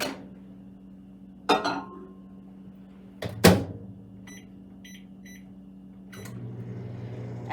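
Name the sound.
microwave oven running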